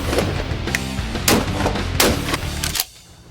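Shotgun firing slugs at an outdoor range, several sharp loud blasts spaced irregularly across a few seconds, ending abruptly in quiet.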